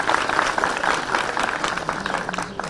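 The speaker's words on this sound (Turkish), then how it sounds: "hasreten bir alkış rica ediyorum" Audience applause at a Turkish agricultural event on vegetable and fruit seedling support for farmers, with dense, steady clapping from a crowd that keeps going for the whole stretch.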